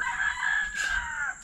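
A rooster crows once in a long, drawn-out call, clear and fairly close, with no talking.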